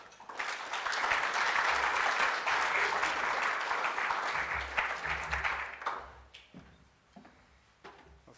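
A conference audience claps steadily and loudly to welcome a speaker, keeping up for about six seconds before the applause fades out into scattered claps.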